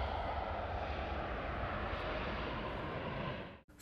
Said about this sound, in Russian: Небольшое ожидание и Боинг взлетает, унося верующих к главной святыне ислама.